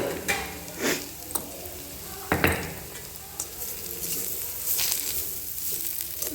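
Black masala, turmeric and chili sizzle in a pan for vermicelli upma, with a steady fry hiss broken by several sharp scraping stirs and pan knocks close by, no talk.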